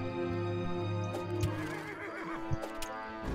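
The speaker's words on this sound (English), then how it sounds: "Makes horse noises." A monster in the video game Starbound lets out a loud horse-like whinny and neighing over a humming game soundtrack, with a few clip-clop thumps scattered through the short stretch.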